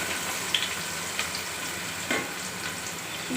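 Chopped onions fry in a pan for a mutton gravy, a steady moderate sizzle with a few faint clicks of stirring and no voices.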